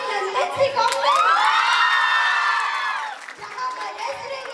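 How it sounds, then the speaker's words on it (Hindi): A school annual function audience, many of them children, cheers and shouts loudly, a sustained swell of high-pitched whoops and crowd noise that peaks and then fades into lighter cheering. "जहाँ बरस रही है आप सभी की मीठी तालियां"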